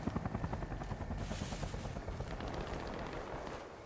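Helicopter in a jeep simulator video game, rapid thudding rotor beats close at first, then blurring into a steady whirring drone with no talking.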